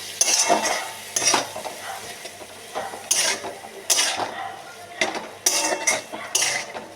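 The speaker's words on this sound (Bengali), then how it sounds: "এখন এটা সব কিছু সঙ্গে মিশিয়ে সুন্দর করে কষাবো" Green peas and green chillies sautéed in a pan for matar ghugni, with bursts of spoon scraping and clanking against the metal pan every second or so over a low sizzle, close up, without talk.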